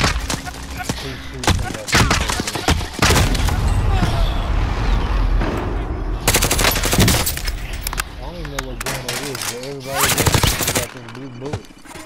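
Rapid automatic gunfire in Warzone Plunder mode, with dense bursts of shots, some long and sustained, others short and clipped, loud and close. A player talks and reacts at times over the shooting.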